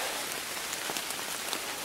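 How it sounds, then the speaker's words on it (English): Heavy rain comes down steadily, a dense hiss with scattered patters of drops on surfaces. It is continuous and fairly faint, with no talk. "sure ain't gonna do much today the way the rain's coming down"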